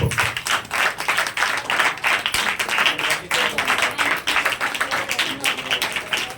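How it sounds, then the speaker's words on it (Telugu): Church congregation at a Telugu Christian service in Kakinada clapping together in a dense, rhythmic burst of applause, fairly close and loud, with a voice speaking briefly over it. "చప్పట్లు కొట్టండి ఒకసారి"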